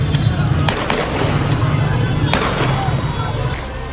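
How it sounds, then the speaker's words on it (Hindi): Gunfire from security forces shooting at protesters in Kangan, Bushehr province, Iran: a few sharp outdoor cracks over a loud, noisy street background. "सुरक्षा बलों ने प्रदर्शनकारियों पर सीधे फायर किया"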